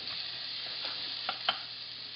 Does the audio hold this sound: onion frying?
yes